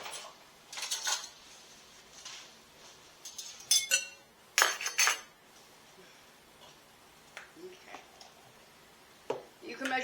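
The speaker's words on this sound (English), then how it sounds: "1/2 cup of mayonnaise. And I just get a spoon." A spoon scooping mayonnaise from a bowl for coleslaw dressing: a handful of light clinks and taps against the dish, scattered irregularly with quiet gaps.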